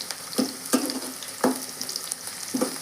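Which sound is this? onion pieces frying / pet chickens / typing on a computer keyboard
onion pieces frying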